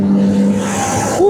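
A car passes on an Indonesian road heard from a moving Vario 125 scooter, a steady engine and tyre rumble with a tonal hum that shifts pitch near the end, loud and close with no talk.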